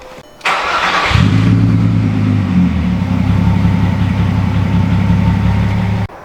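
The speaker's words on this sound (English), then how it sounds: "let's go ahead and pull the car out into the sunlight" A VR6 Jetta wagon engine starts with a brief crank, then settles into a steady, close idle as the car is moved, a continuous low droning hum that cuts off abruptly at the end.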